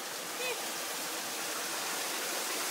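Rainwater rushing into a street drain after a storm, a steady loud broadband roar of pouring water with a voice briefly audible over it.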